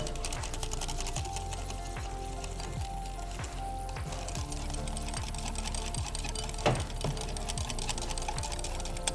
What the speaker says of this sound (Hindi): जल्दी से विस्क करेंगे विस्कर से